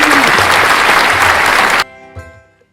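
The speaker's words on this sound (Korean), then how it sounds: "다시 한번 박수 크게 쳐주세요" Loud, close audience applause at a library opening celebration breaks off abruptly, leaving a quiet room with a faint thud and a short low murmur.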